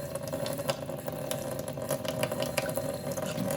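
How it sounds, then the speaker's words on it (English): Tap water runs steadily into a sink during pizza preparation, a continuous close hiss with a low mechanical hum beneath, no talking. "just turn the water on so it mixes it out"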